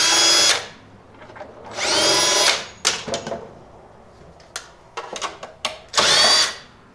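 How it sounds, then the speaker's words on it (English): A power drill bores speaker mounting holes in a 1988 Ford Ranger, whining loudly in three separate bursts with scattered clicks and handling knocks between them. "let's drill the holes a little more precisely"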